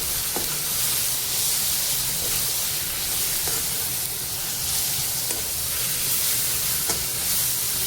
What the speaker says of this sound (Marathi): काजूलाही ॲड करून छान परतवून घेतेय